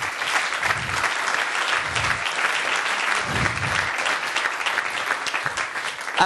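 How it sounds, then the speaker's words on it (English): Steady applause from a conference audience honoring startup mentors at an innovation day event, dense even clapping with no cheering, continuous from start to finish. "I want to give you a, a huge round of applause to you guys"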